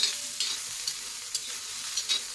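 Finely chopped tomatoes frying in a pan while being stirred, a steady close sizzle with soft periodic scrapes of the spoon every half second or so, no voices.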